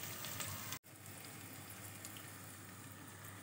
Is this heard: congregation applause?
no